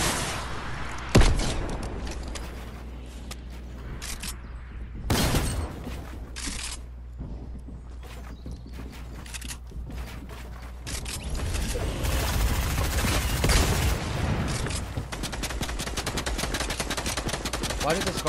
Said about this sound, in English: Why did the scar shoot faster now?